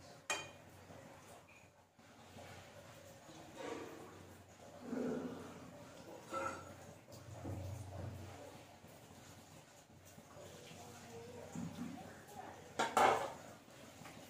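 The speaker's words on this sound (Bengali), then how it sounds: "এবারে একটু নেড়ে চেড়ে নিচ্ছি। এবারে এটাকে ঢাকা দিয়ে দেবো" Metal utensils scrape and clink against a cooking pot while potatoes for aloo dom are stirred, followed by a lid set down with a sharp clatter; quiet, intermittent kitchen sounds with soft talk.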